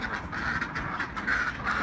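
A white drake quacks steadily in a farmyard, repeated raspy nasal calls coming close and clear with other fowl chatter in the background and no voices.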